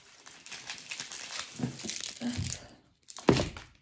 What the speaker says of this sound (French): J'enlève les scotch en même temps.